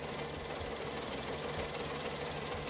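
A Seat car engine idles roughly with an uneven, knocking chug from ignition coil misfires, shaking badly, running steadily and close by throughout.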